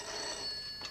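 A telephone bell rings briefly and fairly close in a farmhouse indoor setting, a short continuous ringing burst with no voices over it.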